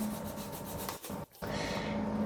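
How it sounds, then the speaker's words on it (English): A sharpened, thinned serrated bread knife rasps steadily across styrene foam, shaping a disc; close continuous rubbing strokes with two brief pauses, no talk. "Now I've got this little serrated bread knife I've sharpened up on the sander, thinned down a little bit. Makes another great tool for finishing this foam."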